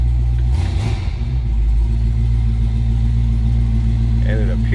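1967 Ford Mustang coupe engine running steadily right after a cold start, a loud close low rumble with a brief blip of revs early on.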